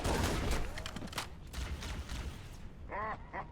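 Explosion and gunfire in the Halo video game, a pistols-only match: a burst of blasts and shots at the start, then scattered mechanical clatter and a few chirping game effects, moderately loud.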